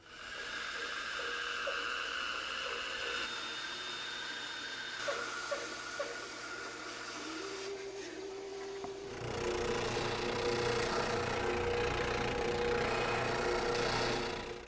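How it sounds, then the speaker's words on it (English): A bandsaw cuts a traced table leg pattern for an outdoor casual table, its motor humming steadily with the blade whining, then the cutting noise swelling louder and broader midway, close and without talking. "Now we'll just trace the pattern and cut it out on the bandsaw."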